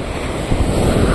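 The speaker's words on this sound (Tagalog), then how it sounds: "ang lalaki ng alon" Large ocean waves surging and breaking on a rough day, a steady loud broadband wash with gusty wind rumbling across the microphone throughout.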